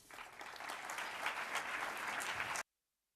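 An audience applauds to welcome a speaker to the stage at a Veritas Forum event, steady dense clapping from a moderately distant crowd that cuts off abruptly into silence.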